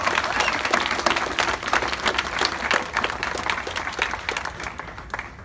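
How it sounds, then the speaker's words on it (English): Rally audience applauding speakers and organizations, dense sustained clapping from a sizable crowd that stays loud and then tapers slightly toward the end. "Please, let's give them a round of applause."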